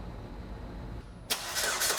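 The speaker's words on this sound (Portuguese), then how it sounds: "Chico, funciona o carro, Chico, por favor" A car engine under electronic test equipment in an automotive workshop starts with a sudden loud catch after a second of quiet hum, then settles into a steady close running roar.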